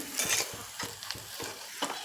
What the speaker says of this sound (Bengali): এবার দিয়ে দেবো একটা পেঁয়াজ কুচি, এটা ভাজবো